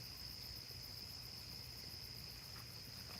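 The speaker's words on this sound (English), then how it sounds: "You guys hear the crickets? They're chirping really," Crickets chirp at night beside a campfire, a steady high-pitched trill running throughout at moderate loudness, with one sharp click near the end.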